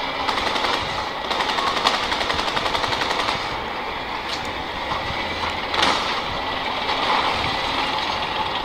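Sustained machine gun fire in Battlefield 2042, a dense continuous rattle of rapid shots running the whole time, loud and close, with a few heavier bursts standing out and no voices over it.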